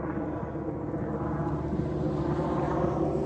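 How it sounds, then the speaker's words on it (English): A helicopter flying over a cabin gives a faint, distant, steady low drone that stays even throughout, with no talking. "The helicopter just flying over there."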